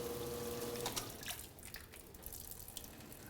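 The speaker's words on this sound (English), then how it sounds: "Our reservoir is filling up, and as it fills up, the float switch rises" Water runs steadily into a reservoir, a continuous near, splashing rush like a tap filling a tank, with no voices over it.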